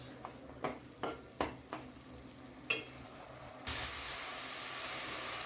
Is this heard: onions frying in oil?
yes